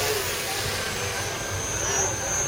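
A twin-engine RC airboat runs on a pond, giving a steady, loud, continuous buzzing drone with a slight whine and no pauses across the whole stretch.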